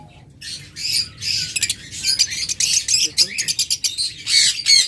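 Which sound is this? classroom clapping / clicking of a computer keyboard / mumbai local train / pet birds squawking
pet birds squawking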